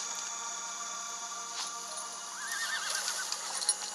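Horse in the video game Green Glass whinnies over a constant synthetic background, with a clear rising and falling neigh in the second half and soft hoof sounds nearby.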